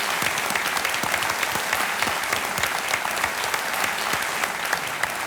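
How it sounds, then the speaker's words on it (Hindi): A studio audience on the KBC quiz show applauds in a dense, continuous wash of clapping that holds at a steady, loud level from start to finish. "तालियों के साथ हम आपका अभिनंदन करते हैं।"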